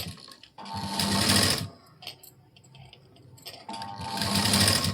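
A sewing machine stitches a blouse sleeve in two loud, close bursts of rapid mechanical whirring, with a quieter pause between them.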